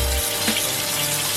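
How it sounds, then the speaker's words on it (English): Cold tap water runs in a steady, loud gush over cooked pasta shells in a strainer, with one short splashy surge partway through and no talking. "Next step is we're gonna blast them with some cold water."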